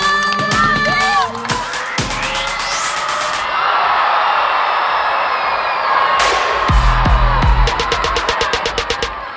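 Crowd cheering at a track and field meet, a broad roar of spectators with whoops and rhythmic clapping bursts, loud and sustained, rising again toward the end, with voices shouting over it.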